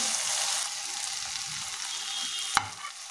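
Capsicum and tomato fry with salt in a pan, giving a quiet, even sizzle with one sharp utensil knock near the end.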